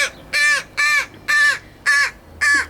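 A crow caws five times in a slow, evenly spaced series, each call harsh, loud and close, with quiet gaps between them.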